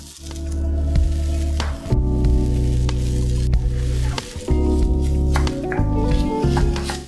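Green peas and scrambled paneer sizzle in hot oil in a pan, a steady loud fry broken by stirring, scraping and squishing sounds from a spoon or spatula.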